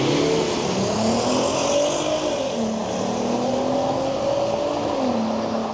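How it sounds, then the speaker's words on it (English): A VR6-swapped all-wheel-drive VW Scirocco drag races a turbocharged GLE, engines droning loudly close by with rising and falling revs through gear changes, steady and continuous. "It's the VR6 swapped Scirocco versus a turbocharged GLE."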